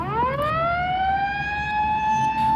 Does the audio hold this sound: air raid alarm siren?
yes